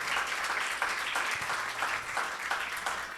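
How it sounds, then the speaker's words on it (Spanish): A church congregation claps for the Lord during a sermon, a steady, moderately loud wash of applause with light rhythmic pulses running throughout. "si le das un aplauso al Señor"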